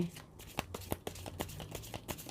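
Tarot cards are shuffled for a reading, giving a run of soft riffling flicks and sharp snaps at an irregular rhythm, close and fairly quiet with no voice over them.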